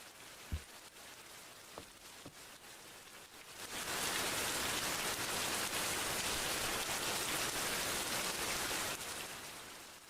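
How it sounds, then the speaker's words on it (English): Steady rain falling outdoors, at first a soft patter with a few isolated drops, then swelling into a loud, dense, continuous downpour that holds for several seconds before easing slightly at the end. "It's just the rain."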